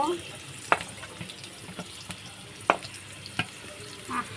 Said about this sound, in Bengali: এটা একটু ভাজা ভাজা করে সেদ্ধ করে নেব